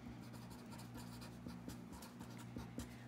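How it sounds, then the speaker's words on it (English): A marker or chalk writes on a classroom board in quick, faint scratchy strokes with small taps. The strokes are close and quiet, over a low steady hum, with no talking. "Let me write it up here."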